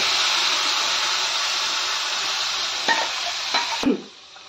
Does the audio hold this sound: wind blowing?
no